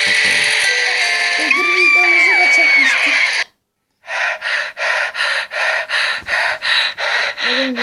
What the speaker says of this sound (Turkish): Öbür Adam içinden nefes alıyor